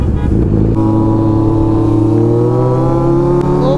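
A Suzuki Hayabusa superbike accelerates on an open road, its loud, close engine note climbing steadily in pitch as it pulls hard.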